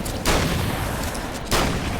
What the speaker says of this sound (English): The shotgun does feel pretty freaking good.